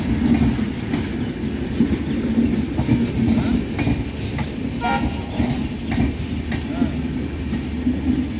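Padatik Express coaches roll past close by, a loud steady rumble with rhythmic clickety-clack of wheels over rail joints and a brief horn toot, while someone talks over it.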